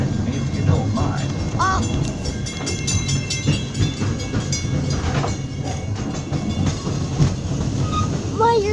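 Walt Disney World Railroad train running through the Magic Kingdom, a steady rumble and clatter of rolling wheels with occasional squeals, heard from aboard the train beneath a faint background voice.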